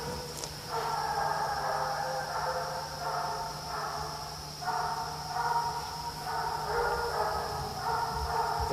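Hunting dogs baying on a night raccoon hunt, distant and drawn-out, their long repeated bays rising and fading over a steady background hum and insect drone, with no talk.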